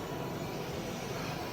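Steady, dense jet roar of an airplane taking off at an airport, loud and constant throughout with a broad even rush and no voices.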